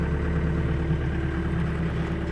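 A heavy Takeuchi TB290 excavator engine runs at a steady, rumbling idle throughout, loud and close, without any clear rise in revs.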